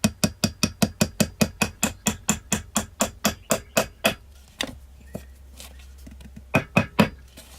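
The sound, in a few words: hammer tapping pin into CZ 75 front sight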